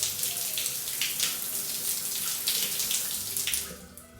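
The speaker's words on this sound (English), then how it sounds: "you would think that the shower probably wouldn't be dripping half of the water underneath the actual sprayer itself" A running shower in a luxury Las Vegas hotel bathroom, with water spraying and splattering steadily onto the floor beneath the sprayer, fairly loud and continuous before easing toward the end.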